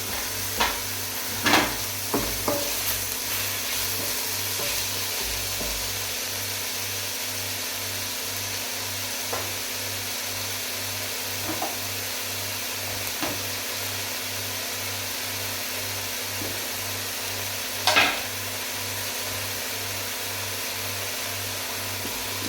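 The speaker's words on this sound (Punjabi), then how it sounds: "ਇਹਨਾਂ ਨੂੰ ਆਪਾਂ ਚੰਗੀ ਤਰ੍ਹਾਂ ਭੁੰਨ ਲਾਂਗੇ" Ingredients for a paneer curry roast in a pan with a steady, continuous sizzle, broken by occasional scrapes and clinks of a stirring spoon, and no speech.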